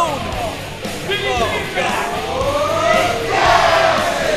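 Wrestling crowd at an AIW independent show yelling, whooping and cheering loudly and continuously, swelling toward the end, with a commentator talking over the noise.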